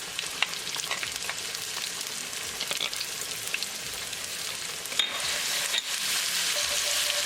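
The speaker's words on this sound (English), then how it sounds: "Mix it, and we're going to cook it until the raw garlicky flavor is gone" Garlic sizzles in hot olive oil in a karahi, a bright continuous frying hiss with scattered pops and a couple of stirring scrapes, growing slightly louder toward the end.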